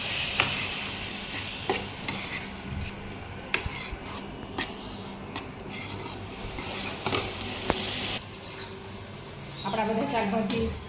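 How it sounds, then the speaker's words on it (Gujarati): Vegetables stirred in a pan with ginger-chili-garlic paste while cooking paneer lifafa filling, giving a continuous scraping, rustling stir over a soft sizzle with occasional utensil knocks against the pan. "આદુ મરચી લસણ પેસ્ટ હશે એ પણ નાખી દઈશું. આપણે બધી સરખી રીતે મિક્સ કરી દઈશું."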